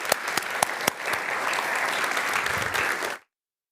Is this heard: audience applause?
yes